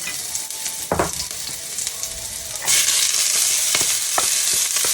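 Garlic fries in oil while it is stirred for a cabbage dish. A quiet sizzle and a sharp metallic clink come first, then the frying swells into a loud, dense hiss with scattered scraping taps.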